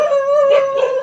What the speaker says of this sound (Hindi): कुत्ते लोग भौंक रहे हैं